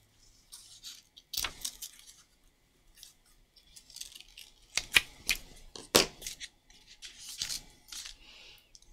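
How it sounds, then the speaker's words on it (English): Scissors snip little bauble shapes out of alcohol ink card: a scattered series of short, crisp cuts with small pauses between them, close and fairly quiet, with light paper rustling. "you just go around and you cut little baubles"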